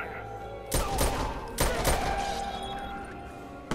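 A gun blasts in Watch Dogs with two loud, sharp shots about a second apart, each leaving a booming tail and a ringing decay, alone with no talk.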